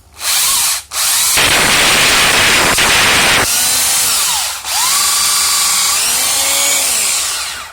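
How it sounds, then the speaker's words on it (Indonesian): Loud, continuous rotary grinding and sanding against rusty metal, with the motor pitch rising and falling and a short pause between bursts. "teman-teman bisa pakai amplas saja ya, diamplasin aja, dikasih amplas."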